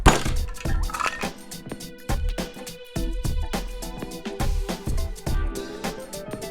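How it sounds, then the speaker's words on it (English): Ice rattles hard inside a cocktail shaker in a rapid, steady back-and-forth rhythm, loud and close, each stroke a sharp crunching clack, with no talking over it. "we're gonna throw in our ice, we're gonna shake her up"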